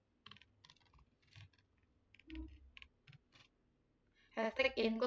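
Keystrokes clatter on a computer keyboard while C++ code is entered, arriving in short scattered bursts with a louder rapid flurry at the end, fairly close and crisp, with a faint low voice murmuring underneath.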